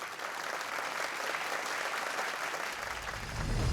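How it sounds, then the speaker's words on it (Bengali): A studio audience on the Ideabaaz television show claps loudly and steadily to welcome a contestant, a dense even roar of hand claps that swells slightly at the end. "তো জোরে হাততালির মাধ্যমে স্বাগত জানান বিশা গোসালিয়াকে"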